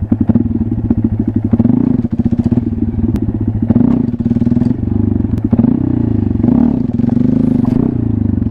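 Honda Grom motorcycle idling and revving during wheelie practice, a loud, close single-cylinder putter that rises in repeated throttle blips, with clattering and a few sharp knocks between.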